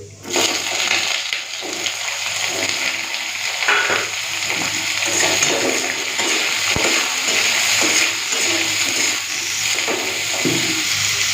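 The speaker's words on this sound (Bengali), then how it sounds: "বেগুনটা আগে বেগুনটা ভেজে নিয়ে একটুখানি তারপরে শাকটা দেবো" Brinjal fries in oil seasoned with nigella seeds and dry red chilli, a loud, steady sizzle with bursts of stirring and scraping in the pan, no one talking.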